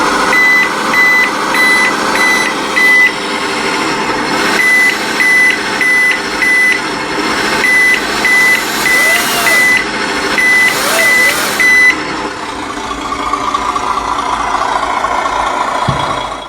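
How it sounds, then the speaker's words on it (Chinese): Steady rhythmic reversing warning beeps from an RC Land Rover Defender 90 Camel Trophy scale model with an OB1 light and sound unit, repeating in short bursts for about twelve seconds over a faint motor hum, then stopping. "然后 OB1 灯组它倒车会有倒车声，"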